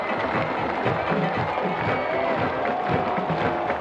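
Eisenhower's student section cheers as a steady, roaring crowd din at a packed high school football game against Roseville, while an announcer speaks over it.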